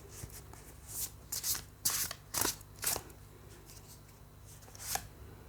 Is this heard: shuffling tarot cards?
yes